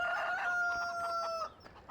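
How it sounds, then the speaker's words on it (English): A rooster in the video game Farming Simulator 17 gives a single loud, close crow lasting over a second before cutting off, followed by brief quiet. "Oh, hey, rooster."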